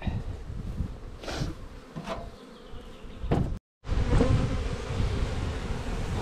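Honeybees shaken from several hive frames into a hive roof give off a dense, loud buzzing swarm sound, broken by a brief sharp dropout near the middle before the humming resumes strongly.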